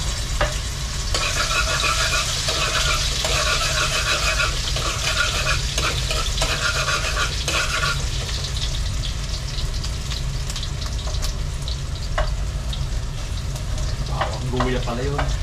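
Garlic and ginger sizzle loudly in a hot pan for chicken adobo, with continuous crackling frying and scraping stirring strokes, and a louder clatter of utensil hits near the end.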